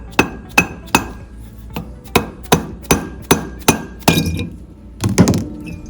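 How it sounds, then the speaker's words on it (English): A mallet knocks repeatedly on the rotor body of an Ampco ZP1 series pump during a seal change, giving about a dozen sharp, fairly close metallic thuds at a steady, slightly uneven pace with no talking. "Using our mallet, we're going to gently work off the rotor body."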